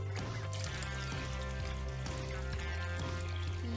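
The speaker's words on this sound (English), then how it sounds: "we're going to add 3 cups of distilled water" Distilled water poured into a turkey brine for smoked turkey legs, a steady close pour running throughout over a constant tonal hum.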